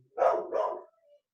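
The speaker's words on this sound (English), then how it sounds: "Pardon my dog." A dog gives two quick barks close by, followed by a faint short whimper, with nothing else around.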